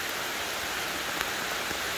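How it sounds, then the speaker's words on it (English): Rain falling steadily in a rainforest, a dense, even hiss of drops on leaves and surfaces, fairly loud and unbroken, with no voices. "It's a bit wet. We're in the rainforest."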